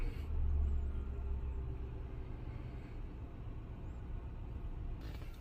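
A vehicle engine idles steadily after starting from clear flood mode following a stuck gas pedal, a low continuous rumble holding even throughout.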